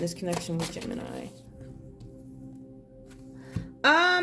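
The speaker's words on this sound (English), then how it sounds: "I'm going to shuffle these." Tarot cards are shuffled in a soft, papery riffle for a couple of seconds, with a person talking just before and after.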